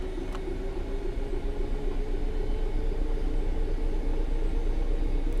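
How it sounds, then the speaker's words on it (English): A train passing in the Train Sim World 3 game while a Class 66 locomotive drives along at steady speed, producing a loud, continuous rumbling roar with a steady mechanical drone throughout. "Sometimes we're lucky enough to get a train passing at the same time."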